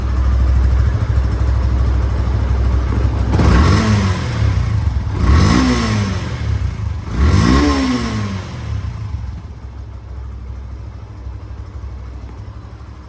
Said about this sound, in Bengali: তো গাড়িটার সাউন্ড কোয়ালিটি এখন দেখাবো